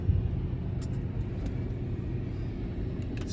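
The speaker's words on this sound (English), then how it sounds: "Let's go ahead and start it up. You hear this nice V8 sound." A 2015 Lexus LX V8 engine idles just after start-up, giving a steady low rumble with a faint hiss on top and no talk.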